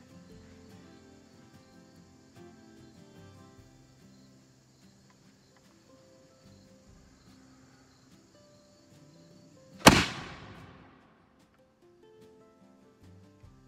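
A single sharp report from a matchlock arquebus loaded with a lubricated patched round ball cracks out loud after a long quiet stretch, decaying quickly over steady outdoor insect chirping.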